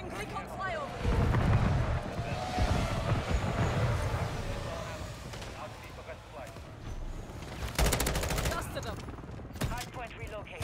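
Rapid bursts of M16A1 rifle fire in Call of Duty: Modern Warfare 3 multiplayer, loud sharp volleys around the middle and near the end over game noise, with a player talking.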